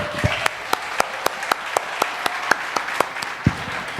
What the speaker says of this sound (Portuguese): Vamos aplaudir esse Salvador maravilhoso?